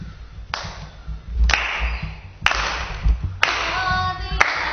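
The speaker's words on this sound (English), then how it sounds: "let us clap our hands." A church congregation claps in praise to God, a few sharp, evenly spaced claps standing out about once a second over a low musical backing.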